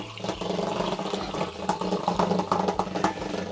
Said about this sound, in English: we'll now pour the rest in to top it up to 23 litres